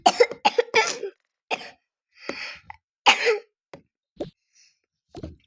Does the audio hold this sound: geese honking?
no